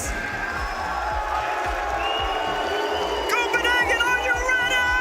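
Arena crowd at a Rocket League major championship in Copenhagen cheering and whooping in a loud continuous roar, with scattered clapping and a rising swell near the end; voices talk over it.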